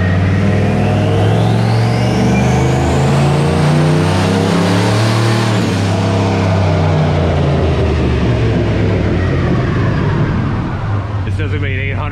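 A turbocharged 5.3L GMC Yukon engine, with no other modifications, revs hard, its loud, close roar climbing steadily in pitch, holding, then sliding back down to a lower rumble.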